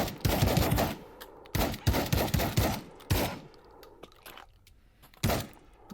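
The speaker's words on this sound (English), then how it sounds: "The Sega shotgun. This is pretty much an AK but in 12 gauge." A Saiga 12-gauge shotgun fires in the VR shooter Pavlov VR, loud blasts grouped in quick bursts of several shots, then scattered single shots and mechanical clicks.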